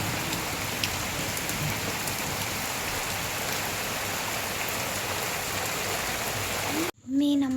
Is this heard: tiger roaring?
no